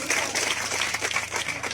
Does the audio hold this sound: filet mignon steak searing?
no